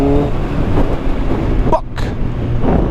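A Kawasaki Z1000 motorcycle's exhaust lets out a loud pop-and-bang crackle over a steady engine drone, with a sharp burst near the middle followed by a brief dip.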